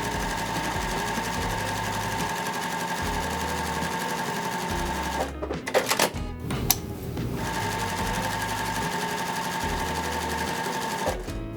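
Sewing machine running steadily while stitching quilt seams, a loud continuous mechanical whir with a brief break of handling noise midway before the motor resumes.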